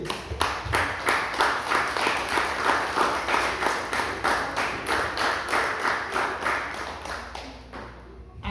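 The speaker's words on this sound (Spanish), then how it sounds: "Dese un fuerte el aplauso, hermano." A church congregation claps together in rhythmic unison, with sharp, evenly spaced beats. The clapping keeps a steady tempo for most of the clip, then thins out and fades near the end.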